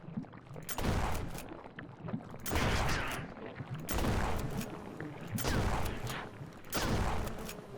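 Shotgun blasts in the survival video game Until We Die, several loud booming shots spaced a second or two apart over a continuous noisy game background.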